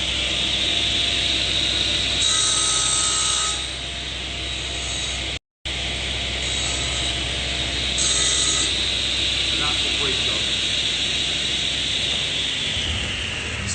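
A panel saw runs with a steady loud whining drone, broken by a brief cut-off, and its blade rubs on the table in a harsher grinding stretch, close up with no talking.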